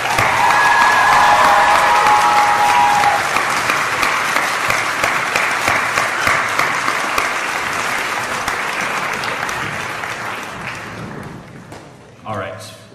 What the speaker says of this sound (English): Can we just give all of our senior soloists one more round of applause, please?